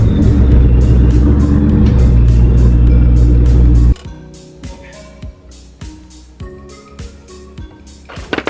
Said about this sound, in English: Pull my car closer so we don't have to lug everything so far to take this one wheel off.